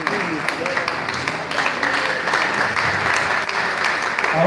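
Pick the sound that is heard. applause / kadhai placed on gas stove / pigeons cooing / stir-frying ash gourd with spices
applause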